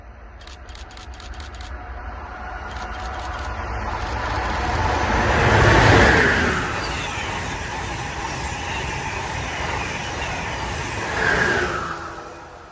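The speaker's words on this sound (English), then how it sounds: "Coming next northbound on the Northeast Corridor is an Amtrak Northeast Regional with ACS 64s on each end of the train" An Amtrak Northeast Regional passenger train with ACS-64 electric locomotives at each end passes northbound on the Northeast Corridor in central New Jersey, its rumble swelling to a loud peak midway, easing, then rising again near the end.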